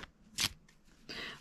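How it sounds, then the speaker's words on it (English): A small deck of tarot cards is shuffled by hand in a few quick riffling bursts, close and soft, with brief pauses between the flicks. "they are quite nice to shuffle"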